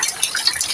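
Light rain patters steadily outdoors, a soft continuous hiss with scattered drips, close by and fairly quiet, with no voices over it.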